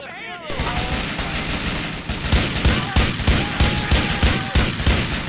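Rapid bursts of gunfire in GTA 4: The Ballad of Gay Tony, set in a club, loud sustained volleys with repeated sharp shots over a steady background din.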